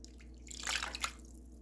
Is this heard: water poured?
yes